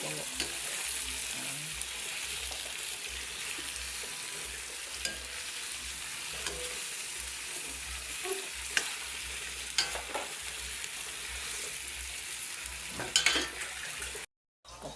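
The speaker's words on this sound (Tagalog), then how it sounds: "Igisa-gisa lang natin yung ating hotdog hanggang sa mag-brown" Hotdogs sauté in a pan until browned, giving a steady soft sizzle with scattered stirring scrapes and light utensil clicks, fairly quiet and close, before a brief cut near the end.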